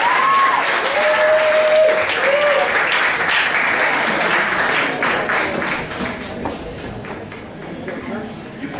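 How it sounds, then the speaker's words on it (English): An audience at an evening team competition claps loudly and steadily for the first-place team, then the applause gradually thins and fades. A brief high electronic tone sounds near the start. "Round of applause, please, to our current first place team, Team Birmingham Holocaust Education Center."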